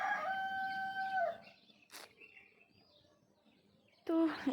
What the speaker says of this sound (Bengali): মোরগ ডাকতেছে